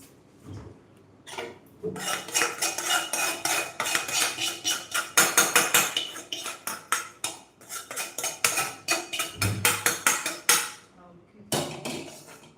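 A spoon scrapes and clinks rhythmically against a pan as cashew mint upma cooked with ghee is served onto a plate, with repeated sharp metallic strokes in close succession and brief pauses.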